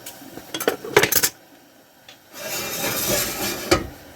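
Dishes are washed, with close clattering and rubbing of plates and utensils in short bursts, then a longer stretch of scrubbing.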